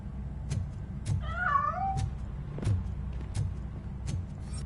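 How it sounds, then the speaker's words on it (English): A cat meows once in the Robocop video game, a wavering, drawn-out cry over a steady low game rumble punctuated by regular sharp clicks. "That cat must be hiding inside."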